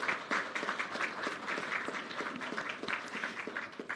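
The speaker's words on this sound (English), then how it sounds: "can we first pause and give each of us and them a round of applause?" Applause from an audience at a US Mint event: dense, steady clapping from many hands filling the whole stretch at moderate level, with no speech over it.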